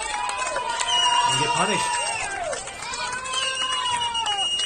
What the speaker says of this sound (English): Crowd really getting behind.